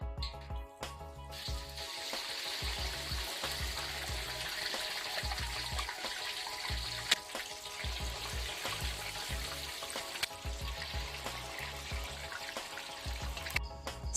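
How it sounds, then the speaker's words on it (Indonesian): Tofu deep-frying in plenty of very hot oil over high heat, giving a continuous, dense sizzle and crackle that holds steady and fairly quiet throughout, with no voices. "jika minyak sudah benar-benar panas, goreng tahu dengan menggunakan api besar di awal"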